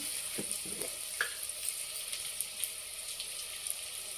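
Onions frying gently in oil for sambar, a quiet, steady sizzle with small crackles and faint clinks of stirring, heard close with no talk.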